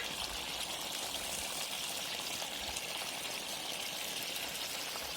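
Chopped tomatoes tipped into a cauldron of Uzbek dimlama stew, giving a steady wet pouring, trickling wash that fills the whole stretch with no voices over it.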